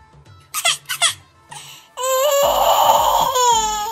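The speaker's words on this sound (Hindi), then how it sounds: "उन्हें एक गार में से रोने की आवाजें आती हैं" A child cries and sobs in a cave in an animated story, first in short broken wails, then a long loud sustained cry with squeaky sobbing tones.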